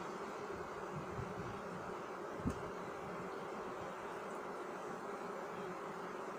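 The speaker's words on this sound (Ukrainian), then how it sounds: "Ви самі бачите, бджоли багато." Dense, steady drone of many honeybees buzzing around a hive, a continuous close swarm hum with one brief knock partway through and no talking.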